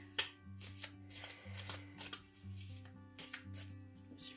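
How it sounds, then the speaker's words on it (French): Heart-shaped tarot cards being shuffled by hand, a run of quick riffling bursts and soft card slaps in an uneven rhythm, close and quiet. "Elles sont en forme de cœur, donc c'est moins évident à mélanger."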